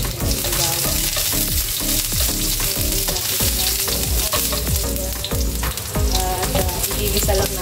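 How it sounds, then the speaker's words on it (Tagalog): Chicken and mushroom sizzle loudly in hot oil, with a continuous crackling fry broken by repeated scraping stirs of a utensil against the pan, close and dominant, with no talking. "At igigisa lang natin itong mushroom"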